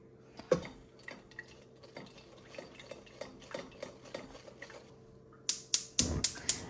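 Blended chili sauce is pushed through a strainer for a smooth enchilada sauce. A spoon taps and scrapes the mesh in a quick, regular rhythm, ending in louder clinks.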